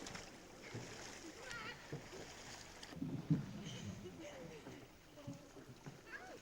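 A green rowing boat crew races in fast, with oars splashing and water rushing in a rhythmic churn under wind and a commentator's voice.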